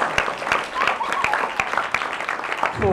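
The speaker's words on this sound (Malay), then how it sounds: "Alright, tepukan untuk Syawal." Audience at a school parents' talk and prayer program applauding, a steady patter of clapping with distinct sharp claps throughout, close and fairly loud, with a brief voice near the end.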